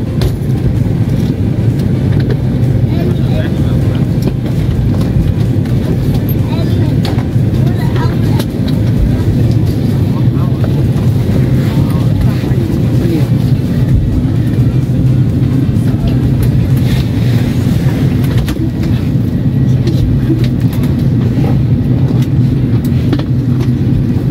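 Road traffic in Kuala Lumpur, Malaysia: a steady, loud rumble of vehicles moving nearby, continuous low engine and tyre noise throughout with no clear breaks.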